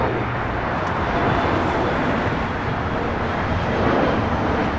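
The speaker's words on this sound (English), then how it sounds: "Challenger 605 taking off" A Bombardier Challenger 605 business jet roars on its takeoff run at LAX, a loud, dense, broadband engine rush that holds steady throughout.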